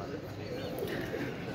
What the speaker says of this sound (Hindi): ये आके बैठ गया माशाल्लाह हमारा मोटू कबूतर